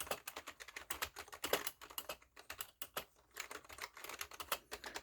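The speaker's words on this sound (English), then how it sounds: "let me type one more time." Keys clacking on a Pictek RGB gaming keyboard, a quick steady run of close, crisp keystrokes with brief pauses, no voices.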